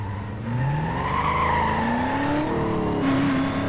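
Supercharged Lamborghini Urus engine in the NFS Most Wanted racing game revving and climbing through gears with a whining pitch rise, loud and continuous, with a hint of tire squeal.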